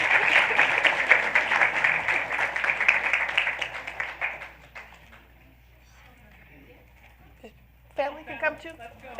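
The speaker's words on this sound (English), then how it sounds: "You can clap." Audience at a school board meeting applauds an honoree with brisk, loud clapping that tapers off over about four seconds, followed by a quiet room and then people talking nearby.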